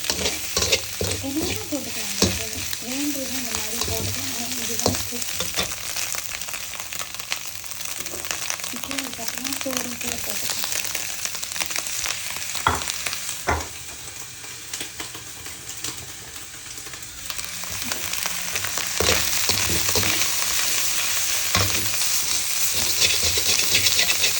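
Fried rice (nasi goreng) being stirred in a pan, a steady sizzle with repeated scraping strokes running throughout, with someone speaking intermittently over the cooking.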